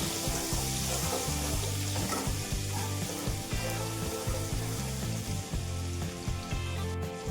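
Garlic sizzling steadily in a hot pan for pasta, a continuous close, loud frying hiss with a faint rhythmic background tune underneath.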